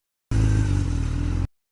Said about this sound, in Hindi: अब देखो यू करी मैंने बाइक स्टार्ट, और यू चले हम घर पे,